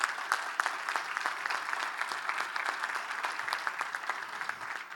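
An audience applauds at a club day celebration, dense clapping filling the room evenly and continuously at moderate volume, with a few sharper claps standing out.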